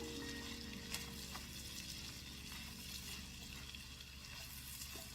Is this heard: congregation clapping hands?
no